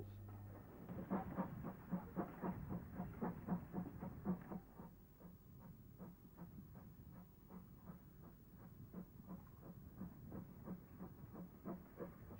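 An 0-6-0 steam tank locomotive chuffs along an industrial railway at a distance with a steady rhythmic beat, loudest at the start and then fading slightly, with no talking.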